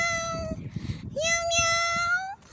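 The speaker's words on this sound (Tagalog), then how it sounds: "May pusa sa daan." A cat on a street gives two drawn-out, fairly loud meows with a short gap between them, over soft background noise.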